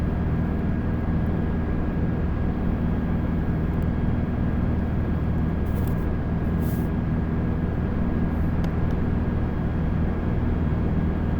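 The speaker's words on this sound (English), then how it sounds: "I can just see already an aircraft coming into land." A steady, loud airliner-style engine roar fills a night approach into Heathrow in the X-Plane 11 flight simulator, a continuous broadband drone that holds level throughout with a faint high tone over it and no voices.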